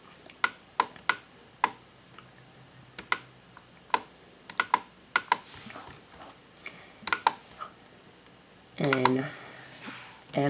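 Quick, crisp keystrokes on a computer keyboard while letters are typed to search fonts, coming in short irregular bursts, with a person talking briefly near the end.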